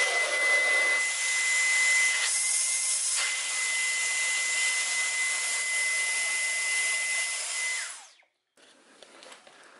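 A cordless vacuum cleaner runs on its boost setting, a loud, steady high-pitched whine with airy rush that holds for several seconds, then winds down and cuts off, leaving faint handling noises.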